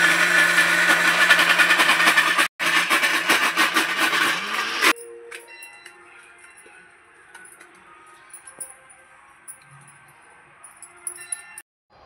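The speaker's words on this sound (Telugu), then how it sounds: "ఇప్పుడు మిక్సీ పట్టుకుంటున్నా" A kitchen mixer grinder whirs loudly while grinding soaked urad dal with a little water, then cuts off abruptly after a brief pause, leaving quiet room noise and faint clinks.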